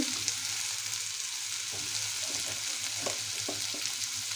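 Finely chopped potatoes fry in a pan with cumin tempering, salt, turmeric and green chillies, giving a moderate continuous sizzle with occasional soft stirring scrapes and clicks.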